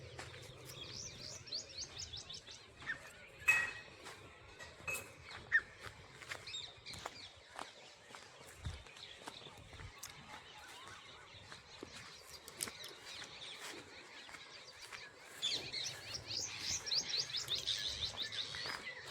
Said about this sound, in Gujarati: મોર આવ્યા ને ચરવા.